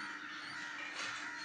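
A green parrot imitates a crow's caw, giving a single harsh, nasal call that carries across the whole short moment, close and fairly loud, with no talking.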